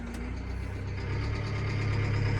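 Farm tractor engine idling before a drive, a steady close low rumble with a rhythmic knocking chug that grows slightly louder toward the end.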